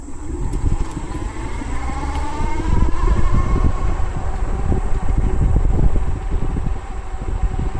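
Wallke H7 Ultra all-wheel-drive e-bike ridden at full throttle in first gear, a steady whirring motor whine rising in pitch over continuous rushing wind noise, close and fairly loud with no talking.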